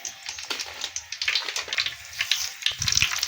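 Onions, green chillies, dried red chillies and garlic frying in hot oil for a tempering, giving a steady close crackling sizzle with scattered sharper pops throughout, no voices.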